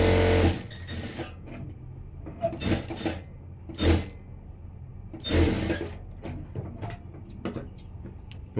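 A sewing machine runs a large stitch around a blouse lining in short bursts, several brief whirring runs separated by pauses, close and moderately loud against a quiet room.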